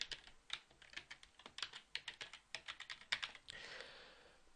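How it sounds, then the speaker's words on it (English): A user ID and password typed on a computer keyboard with quick, uneven clicking keystrokes close up, ending in a short soft rustle, with no talking. "Now I enter my user ID and password again"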